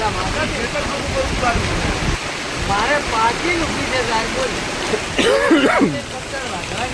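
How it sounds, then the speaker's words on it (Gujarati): A steady, dense hiss of heavy rain pours throughout on a highway at Shihori, while a person talks and exclaims over it. "ફૂલ વરસાદ મિત્રો પડી રહ્યો છે"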